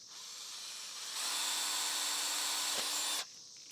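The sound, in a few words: drilling a 3/16 inch hole in pipe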